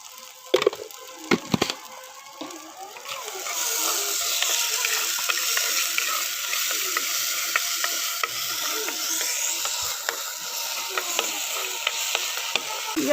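Onions sautéing with a pinch of salt in a pan, a steady sizzle that holds for most of the stretch, with a few sharp clatters of stirring near the start and brief scraping knocks throughout.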